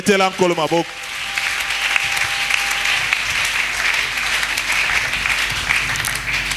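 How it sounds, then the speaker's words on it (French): A church congregation breaks into sustained applause after a brief sung or spoken phrase at the start, the clapping filling the space evenly and loudly for several seconds. "Acclamons le Seigneur."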